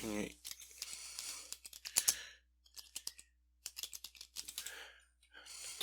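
Keys clatter on a computer keyboard in quick irregular bursts with short pauses, close and crisp, as text is typed in Photoshop.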